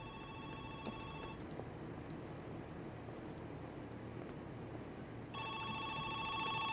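A modern telephone rings in a video game, a bright electronic trill in two bursts separated by a quiet gap, over a low steady background hum.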